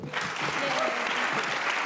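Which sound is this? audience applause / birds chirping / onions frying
audience applause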